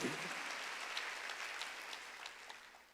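A church congregation at a Wednesday worship service claps together, a faint, distant wash of hands with a few sharper claps that slowly thins out over a few seconds.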